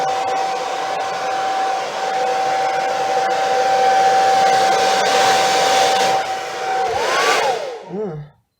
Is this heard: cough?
no